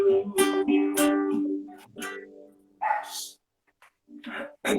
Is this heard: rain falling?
no